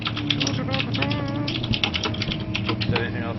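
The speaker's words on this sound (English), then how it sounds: "Just hear your keyboard clicking away." Computer keyboard keys click away quickly and steadily under a constant background hum, with some faint tonal sound mixed in.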